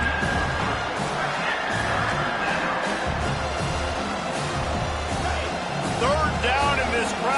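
A stadium crowd roars steadily in a college football video game, Florida facing South Carolina, a constant loud wash of cheering under ongoing commentary, with a few whistle-like squeaks near the end.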